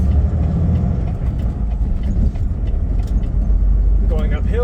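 A 10-speed semitruck rumbles deep and loud as it pulls away and climbs through the gears, engine note rising and dropping with each upshift, and a voice talks over it near the end.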